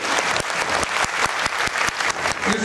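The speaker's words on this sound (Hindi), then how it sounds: "सभी बिहार के साथी जोरदार ताली बजाकर इनका स्वागत कीजिए।" Loud, close applause from a crowd at a Bihar political rally, dense clapping with sharp rhythmic beats in unison running throughout, with no talking over it.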